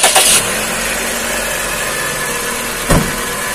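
A 2000 Toyota Soluna's 1.5-litre 5A-FE engine idles steadily up close, a constant low hum with a brief louder burst at the start and another short surge near the end.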